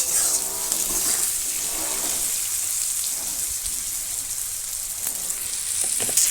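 Garlic frying in a kadai in a village kitchen as lote fish curry is cooked, a loud, dense, continuous sizzle close by that carries on unbroken.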